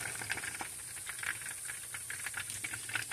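Rice with corn, ham and sofrito simmering over low heat, a steady close hiss of steam with soft bubbling pops, no voices.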